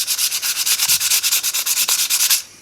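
A brake rotor from a ZRace being sanded by hand with sandpaper: steady rhythmic back-and-forth scraping strokes, close and fairly loud, about a dozen quick even passes before stopping.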